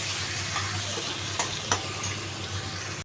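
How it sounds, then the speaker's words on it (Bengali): Tomatoes sizzle in a pan, cooking for a coconut chana dal, with a constant close frying hiss broken by a few soft clicks of stirring before a sudden stop. "টমেটোগুলো একটু ভাজা ভাজা হবে।"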